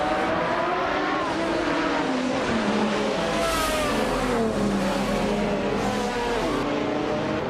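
Race cars in a racing video game roar away from the start line, several engines revving and accelerating together in a dense, continuous drone that rises and shifts in pitch, with faint talk beneath.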